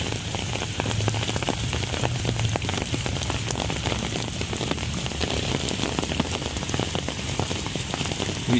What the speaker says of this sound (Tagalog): We have a strong rain today here in Baguio City.